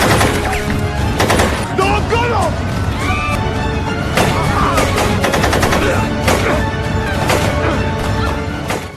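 Rapid bursts of machine-gun fire and single gunshots crackle through a film battle scene as terrorists storm a village, loud and dense with crashes and shouting voices mixed underneath throughout.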